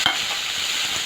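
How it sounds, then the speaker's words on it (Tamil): Fennel, bay leaves and curry leaves tempering in hot oil in a home kitchen, a steady close sizzle with a quick stir scraping the pan at the start, no voices. "கருவேப்பிலை கொஞ்சம் தாளிச்சுக்கலாம்."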